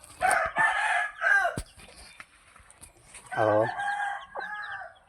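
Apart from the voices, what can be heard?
chickens clucking and rooster crowing while being fed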